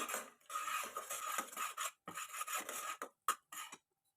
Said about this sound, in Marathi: याच्यामध्ये आपण घालू घेऊया वेलची पावडर चांगले मिक्स करून घेऊया